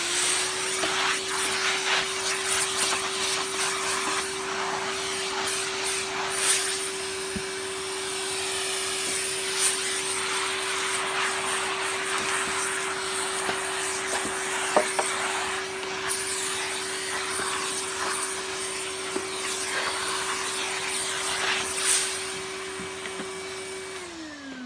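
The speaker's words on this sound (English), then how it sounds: "I'm going to vacuum up all these bits of sponge." A Hoover Junior U1650 upright vacuum cleaner runs continuously with a steady motor whine, sucking up sponge bits with scattered rattles and clicks, then winds down at the end.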